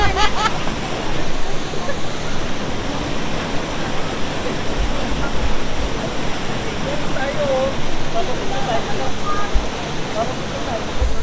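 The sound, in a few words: Sprite Falls waterfall, Majayjay, Laguna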